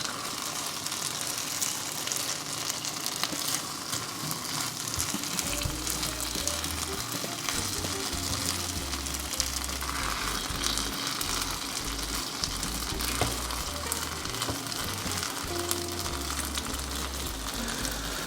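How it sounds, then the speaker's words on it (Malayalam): Egg Manchurian gravy simmers in a pan, a steady close bubbling sizzle that runs unbroken from start to finish with no voices. "അപ്പോൾ നമ്മുടെ ഗ്രേവിയൊക്കെ നന്നായിട്ട് തിളച്ചിട്ടുണ്ട്."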